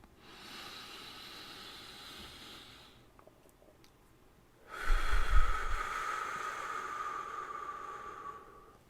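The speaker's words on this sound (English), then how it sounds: "when you're stressed, you take a deep breath" A slow deep breath drawn in and let out, close and hushed: a soft airy inhale, a pause, then a stronger, louder exhale that hisses and gradually tapers off.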